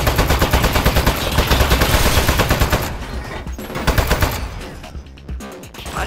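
Turret gunfire in the game Aperture Desk Job: loud, rapid automatic bursts in a fast even rhythm, then a pause and a few shorter volleys that trail off, with no voices.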